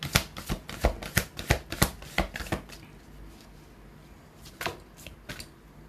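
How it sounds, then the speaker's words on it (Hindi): Tarot cards being shuffled and drawn from a deck give a quick series of crisp snaps and riffles, loud and close at first, then sparser card slaps. "मैं निकाल लेती हूँ और एक कार्ड।"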